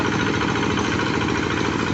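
A hand tractor's engine runs at a steady, close, rumbling idle with a rough, vibrating tone.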